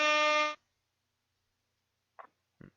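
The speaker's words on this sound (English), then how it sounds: "Blow an air horn in his face." A loud, blaring air horn blast lasting about half a second, followed by silence and then two brief faint bursts of sound.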